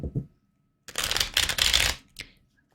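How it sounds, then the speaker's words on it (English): A deck of tarot cards is shuffled up close in a few dense, crackling bursts of riffling, with brief pauses between them and no voice over the sound. "Gonna get a few more shuffles here."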